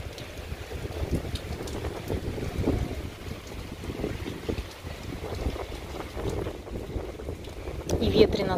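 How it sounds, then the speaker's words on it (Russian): Gusty wind buffets the microphone with low rumbling bursts, rising and falling throughout, with faint water sounds in the background, on a rainy day by the ocean. "И ветрено сразу стало очень."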